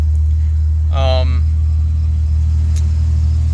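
A 1984 Chevy Citation engine with a faulty choke idles steadily with a low, continuous rumble; a brief voice cuts in near the start.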